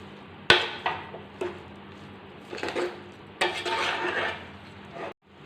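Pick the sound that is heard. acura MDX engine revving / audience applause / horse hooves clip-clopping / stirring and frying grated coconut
stirring and frying grated coconut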